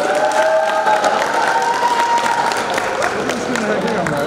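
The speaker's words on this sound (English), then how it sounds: "Let's like a round of applause." Audience applause at a Rotaract panel discussion on open collaboration, a full, sustained round of clapping with some cheering, while voices talk and call out over it.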